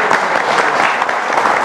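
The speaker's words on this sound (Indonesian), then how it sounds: "Kita berikan tepuk tangan yang meriah terlebih dahulu." Studio audience at a televised Indonesian presidential inauguration celebration, giving a loud, dense burst of applause, close and continuous for the whole short stretch.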